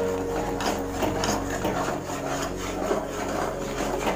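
Hand stirring maida and rice flour in a pan, a continuous close scraping and rubbing with a faint rhythmic texture, steady and moderately loud with no talk.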